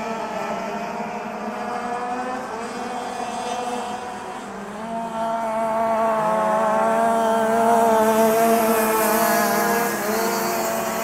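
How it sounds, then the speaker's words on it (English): Go-karts race at full speed on a speedway track in Katherine, Australia, with a loud, steady engine drone of rising and falling harmonic whines that swells louder partway through as the karts pass close. "now the race between go-karts started"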